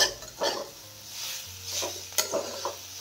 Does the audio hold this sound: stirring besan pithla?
yes